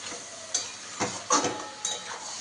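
Mutton curry with potatoes being stirred in a pan, four separate scraping strokes of a spoon against metal over a faint sizzle, fairly close and quiet.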